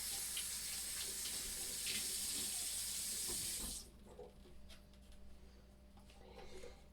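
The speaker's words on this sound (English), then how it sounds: "Now I'm going to take this clean cloth and I'm going to get it wet." Water runs from a kitchen tap onto a clean cloth while sourdough bread is being made, a steady close hiss that cuts off abruptly midway, leaving a quiet room with faint handling noises.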